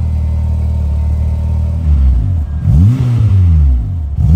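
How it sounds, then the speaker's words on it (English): A Honda S2000 with a naturally aspirated engine and a 3-inch exhaust through a high-flow cat and resonator idles low, then revs up sharply several times. The revs rise and fall loud and close, with no one talking. "This side here is a dedicated 3-inch exhaust through a high flow cat, through a resonator into a 3-inch exhaust with a boost activated valve."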